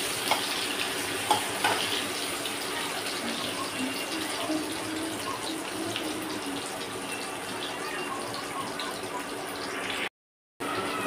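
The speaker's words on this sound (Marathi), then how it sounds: "कांदा लाल होईपर्यंत चांगला परतून द्यायचा आहे।" Chopped onions sizzle and sauté steadily in a hot pan at the start of a chicken dish, a close, continuous frying hiss with faint stirring scrapes, briefly cutting out near the end.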